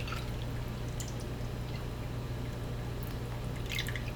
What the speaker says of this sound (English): I'm going to put on a strainer because we need to strain this liquid